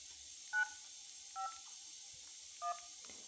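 Three short telephone keypad DTMF tones, evenly spaced and faint, sound over a quiet line hiss as a phone number is dialed.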